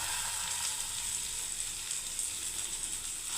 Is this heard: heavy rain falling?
no